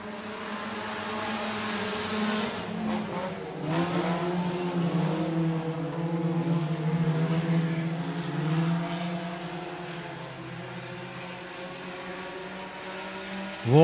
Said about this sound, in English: Colton Ransom holds on to that second place spot going in 3 and 4.